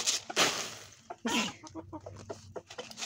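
Chickens cluck close by in short, irregular bursts, with a couple of louder squawks standing out among softer clucks.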